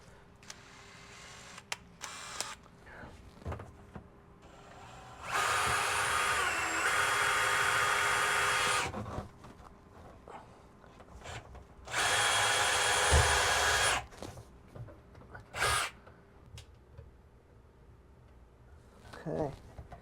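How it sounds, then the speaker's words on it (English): A drill cuts a pilot hole with a 3/4 inch bit during an engine mock-up, running in two loud bursts of several seconds each with quieter shop handling sounds and brief clicks around them. "I'm going to make a little pilot hole."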